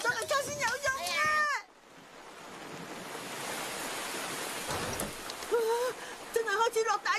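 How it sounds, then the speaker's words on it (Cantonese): Heavy cartoon rain, a dense, steady hiss of downpour lasting several seconds, with cartoon voices speaking just before and after it. "真係開始落大雨啦！"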